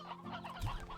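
Chickens cluck in the video game Slime Rancher 2, a short burst of fowl clucking heard clearly without speech.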